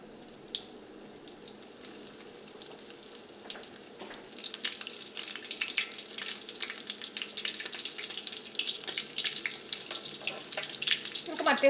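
Egg kabab pieces rolled in crumbs hit hot oil over a medium flame, a soft watery sizzle that builds and grows steadier and louder toward the end, with no talking.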